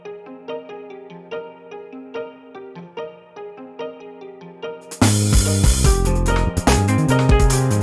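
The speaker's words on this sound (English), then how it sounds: "It's a super, super techie bass line." A plucky electronic melody of short repeated notes plays alone, then a loud, dense full mix crashes in halfway with heavy bass and drums.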